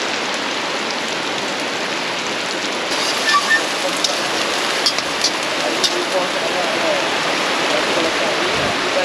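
Heavy rain pours steadily at a jungle campsite with a bamboo bungalow, a dense continuous hiss with occasional louder drips and patters close by.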